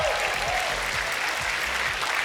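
Audience applause at a furry convention song contest, NordicFuzzCon 2025 Furovision, a steady dense wash of clapping filling the whole stretch, with faint cheering mixed in.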